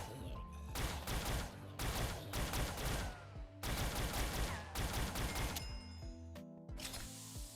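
Gunfire in a video game aimed at a pack of zombies on Mars: loud, rapid bursts of automatic shots in several strings with short pauses between them, ending with a few separate shots.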